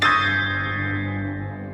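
A single bell strike rings out loud and close, its tone decaying slowly over nearly two seconds, heard alone as a notification chime.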